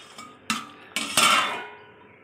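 A lid goes onto a pot of raw banana curry with three sharp metallic clanks, the last one ringing longer before fading, close up and without voices.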